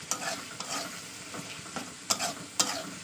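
Prawns sauté in a hot pan with a steady soft sizzle, while a utensil stirs and scrapes through them in periodic strokes, close and moderately quiet, with no voices.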